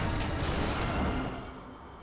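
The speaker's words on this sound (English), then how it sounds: "I didn't know if that would do an explosion or not, but I wasn't expecting it to one-shot me." A loud, broad explosion blast in the Bloodborne video game, a dense roaring burst filling the clip and only slightly fading toward the end, with no talk over it.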